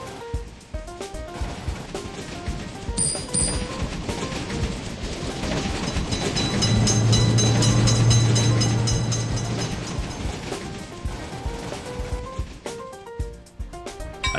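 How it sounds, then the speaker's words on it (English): A train rolls past a road level crossing with motor-vehicle gates, its broad rumble and rail clatter loud and close, swelling to a peak in the middle and easing off toward the end, with faint high tonal squeals above. "Train is in sight!"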